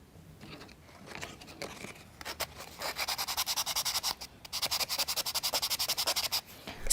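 A model car part is sanded by hand: quiet scratchy rubbing, first sparse, then settling into quick regular back-and-forth strokes, close and alone.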